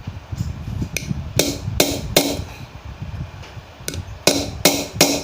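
A hammer drives a concrete nail into a hard steel brush cutter line head, striking a series of sharp metallic blows in uneven bursts, close and loud, with no speech.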